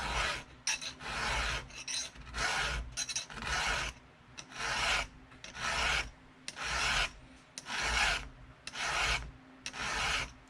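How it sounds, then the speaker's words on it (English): Steady back-and-forth rasping of a hand file sharpening a chainsaw chain on a bench, about a dozen rhythmic strokes with brief gaps between them, close and fairly loud with no talk. "This is basically just how I file my chain and how I get saws sharp."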